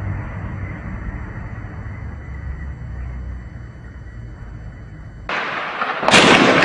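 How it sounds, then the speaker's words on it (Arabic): Heavy machine gun fire and shelling in a town in Syria during 2012: a long low rumbling roar of distant fire, then two sudden loud sharp blasts near the end. "قصف ترعى البلد بالرشاشات الثقيلة"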